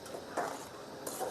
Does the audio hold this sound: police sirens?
no